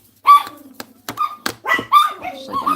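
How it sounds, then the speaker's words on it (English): A puppy barks in a series of short, sharp yips and barks, close and fairly loud, with brief gaps of quiet between them and no talking. "their puppy's trying to figure out what's worth barking at and what's not worth barking at"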